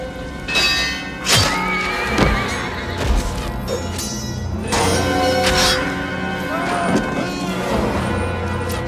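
Horses whinny and snort amid heavy thuds and clanks in a battle scene from the 1992 film Dracula, loud and layered with several calls over a dense low rumble.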